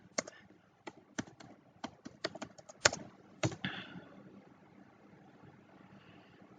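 A purchase order number is keyed in on a computer keyboard: a run of crisp, close keystrokes with uneven spacing, one louder tap near the end, then fading into quiet room noise with no voices.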